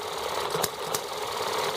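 An engine running slowly at about 950 to 1,000 RPM, with a steady, close mechanical drone and a couple of faint knocks within the continuous hum.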